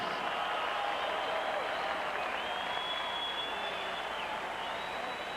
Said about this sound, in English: a round of applause for these two 126-pound warriors